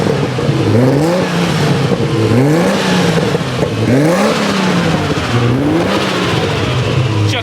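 A Porsche 964 Turbo making about 600 hp revs on the throttle with a huge throttle body, its engine loud and close as it rises and falls in repeated blips over a steady whooshing roar.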